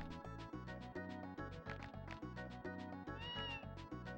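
A creature cry from a bush baby in the Tales of Phantasia video game: a synthesized, cat-like meow repeated over a pulsing chiptune music loop, clear and moderately loud with no talk.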